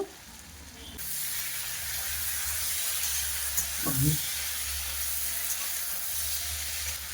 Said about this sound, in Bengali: আমি যে মশলা বেটেছিলাম মশলা বাটা দেব,